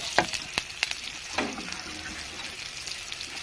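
Onion and siling labuyo chili fry in a pan for adobo, a quiet steady sizzle with a few sharp clinks of a utensil stirring against the pan.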